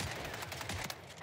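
A no-scope sniper headshot in a first-person shooter, heard as game gunfire in a dense, steady wash of shots with no clear single crack standing out.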